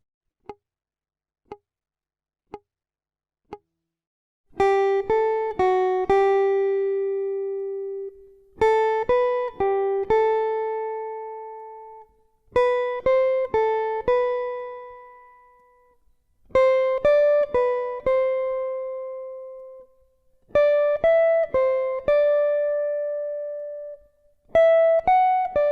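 Four soft metronome clicks, then clean jazz guitar arpeggio notes picked one at a time in quick ascending and descending patterns in 4/4 time, repeated in short phrases with pauses between.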